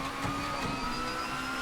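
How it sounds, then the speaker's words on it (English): Onboard engine of a race car lapping Spa in a sim racing game, a steady, droning buzz of tonal harmonics held at moderate volume throughout. "Let's just ride on board with Peter and see, is he struggling at all with tyres?"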